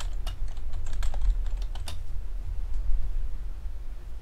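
Typing on a computer keyboard while testing StartCOM Linux: a burst of close, quick key clicks over the first two seconds, then only a low steady hum without keystrokes.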